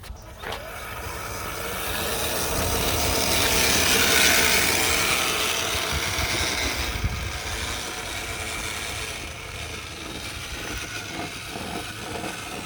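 An Axial SCX6 Goliath RC crawler on a 9s LiPo battery drives in low gear with a whining electric motor and gear drivetrain, swelling as it approaches then easing off, with ratchety mechanical rattles and no talking.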